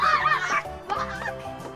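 Loud, close squawking and honking from a bird, several harsh calls in quick succession, with no talking.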